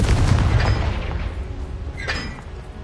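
A fiery blast from the Confringo spell in Hogwarts Legacy, a booming burst that starts loud and rolls off into a noisy decaying rumble with a brief crackle later, with no talking.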